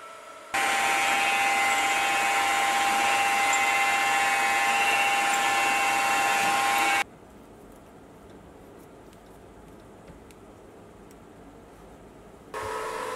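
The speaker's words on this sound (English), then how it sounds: "And I'll take it to the mill to drill a hole for two set screws." A milling machine drilling a hole in a metal bracket gives a loud, steady whine with a bright grinding edge for several seconds, then drops to a quieter hum before surging again.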